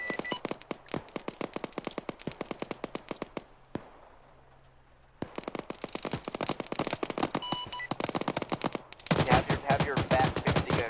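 Gunfire in Arma 3 from a town, with rapid bursts of automatic shots cracking close and loud, a short lull, then more sustained volleys ending in dense overlapping fire.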